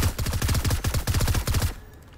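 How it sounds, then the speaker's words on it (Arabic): Rapid automatic gunfire in Fortnite, a dense stream of loud close shots in quick succession that cuts off abruptly into near silence. "والله صوت الاسلحه مزعج."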